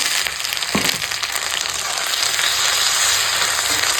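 Ginger garlic paste and tomato hit hot oil with lightly fried onion and green chilli in a pan, giving a loud, steady crackling sizzle up close with a brief stir or drop at the start.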